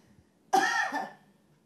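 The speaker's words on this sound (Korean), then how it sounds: "갑자기 기침을 하십니다" An elderly woman coughs once, a single rough throaty burst about half a second long, close and alone in a quiet room.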